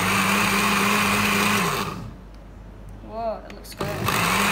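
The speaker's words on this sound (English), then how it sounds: "Now I'm going to turn the blender on." A kitchen blender whirs loudly for about two seconds while mixing an immunity booster drink, then cuts off, leaving a voice speaking and a brief clatter before the motor hum returns.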